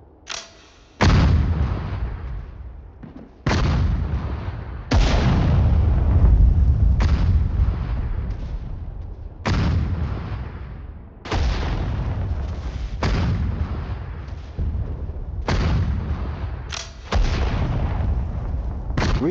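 Artillery guns firing in the World War II strategy game Sudden Strike 4, about ten loud heavy booms at uneven intervals, each trailing into a long rumbling decay.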